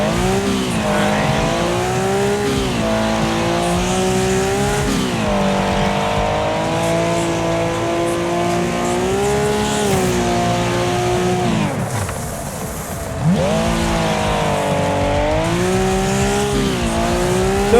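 A racing car in a video game holds a loud, sustained engine whine that climbs and dips through repeated gear shifts, with brief tire squeals, and the revs drop off sharply around the midpoint before surging back.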